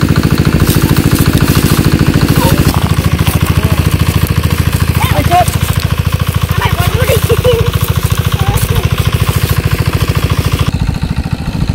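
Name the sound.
engine-driven pump running to drain a village fish pond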